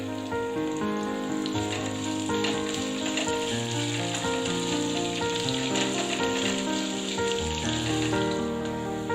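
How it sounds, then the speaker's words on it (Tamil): Sliced onions, two medium-sized, frying with green chillies in a hot pan give off a steady, continuous crackling sizzle for the whole stretch, partly masked by loud melodic background music, with no talking. "வெங்காயம் இந்த மாதிரி ஓரளவுக்கு நல்லா வதங்கி வரணும்"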